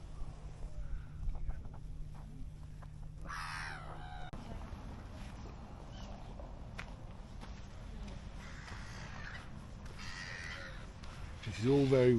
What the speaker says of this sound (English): quite peaceful here, apart from the squawk of a seagull